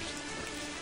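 Steady rain falls on surfaces outdoors on a wet mountain trail in Oze, Japan, a dense, even hiss of close drops with no talk over it.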